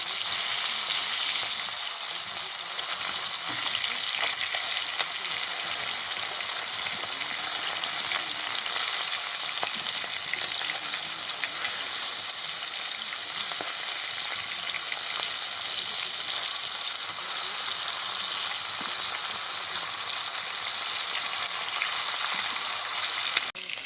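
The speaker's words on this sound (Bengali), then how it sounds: "এই দেখো, মাছগুলো খুব ভালোভাবে ভেজে নিয়েছি।" Fish pieces fry in oil in a wok, a constant close sizzle with small crackling spatters, steady and unbroken over a long stretch with no talking.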